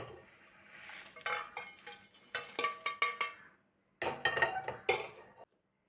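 Roasted dried red chillies are scraped and tipped from a metal pan into a bowl in a home kitchen, giving bursts of close metallic clinks and scrapes separated by brief silent pauses, with no voices.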